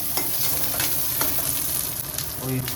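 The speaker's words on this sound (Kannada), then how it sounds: "ಸಿಮ್ಮಲ್ಲಿ ಇಟ್ಕೊಂಡು ಹುರ್ಕೊಳ್ಳಿ, ಇಲ್ಲಾಂದರೆ ಕರ್ಗೋಗ್ಬಿಡುತ್ತೆ" Green chillies roast in a pan over a low flame, a soft continuous sizzle with occasional stirring scrapes, close and steady without talk.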